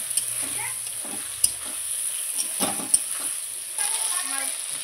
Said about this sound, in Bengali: হলুদ আর লবণ দিয়ে মশলাটা ভালো করে আমি কষিয়ে নেব।